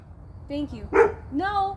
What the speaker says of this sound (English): The next door neighbor dog is out.